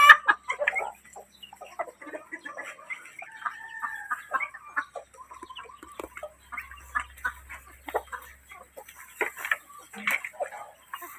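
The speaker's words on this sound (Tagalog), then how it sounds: "Pero yung Rhode Island Red ano na. Nakakain na sila." Rhode Island Red chickens cluck and call in scattered, close bursts as they feed on a farm, with some other fowl mixed in.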